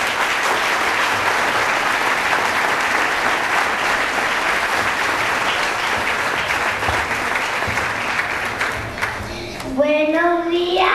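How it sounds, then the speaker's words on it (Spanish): A crowd applauds María Elena at a preschool graduation ceremony at Colegio Betania, with sustained loud clapping from many hands. Near the end the clapping fades and a voice begins speaking. "María Elena con un fuerte aplauso"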